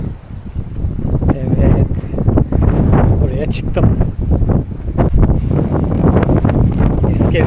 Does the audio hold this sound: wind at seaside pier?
yes